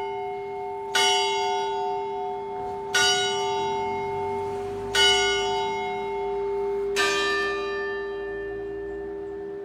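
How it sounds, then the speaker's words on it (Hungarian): Church bell in a town in Csongrád, Hungary, striking one o'clock (13:00): four loud, ringing strokes spaced about two seconds apart, each leaving a long sustained hum that carries into the next, with no voices. "ütötte a harang az 1 órát, a 13 órát."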